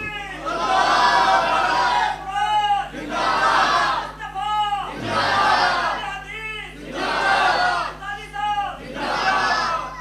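A large crowd at a religious gathering chants slogans in loud, rhythmic call-and-response bursts, each roaring wave rising and falling about every two seconds, with a steady low hum underneath.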